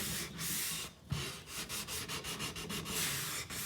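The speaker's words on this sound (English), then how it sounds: "you want to always sand with the grain back and forth" Sandpaper rubbed back and forth along the grain of a wooden painted wall sign, a steady run of rhythmic scratchy strokes, close and fairly loud, with no voices.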